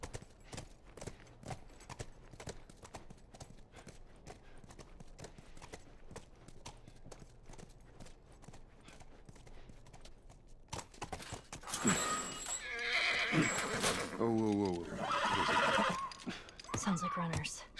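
Horse hooves clop steadily in The Last of Us video game, a long run of evenly spaced hoofbeats, then a loud whinny near the end amid louder action sounds, with people talking.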